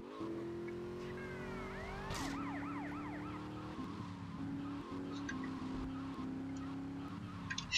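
A police siren wails in GTA Vice City, its rising and falling tones sweeping over a steady car engine drone during a chase, with a brief skid partway through.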